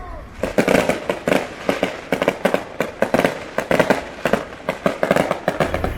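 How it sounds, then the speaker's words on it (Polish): Rapid bursts of daytime fireworks in Palermo, Italy crackle and pop continuously, loud and close, with dense irregular bangs throughout. "Co za problem puścić fajerwerki w dzień."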